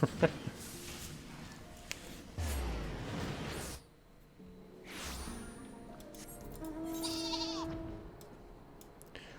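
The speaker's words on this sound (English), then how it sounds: "Sheep." Sheep bleating in Final Fantasy 14, a couple of wavering calls amid background game effects and a voice talking at the start.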